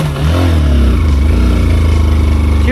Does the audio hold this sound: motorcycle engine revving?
yes